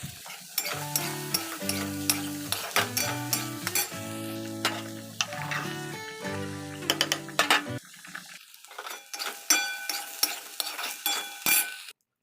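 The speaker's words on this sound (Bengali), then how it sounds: "তারপরে ভালো করে ভেজে নেবো তো চলো তাড়াতাড়ি করে ভেজে নিই" Soya chunks frying in oil with turmeric, a steady close sizzle broken by rhythmic spatula scrapes and clinks against the pan, with a tonal hum over the first part before the frying continues alone.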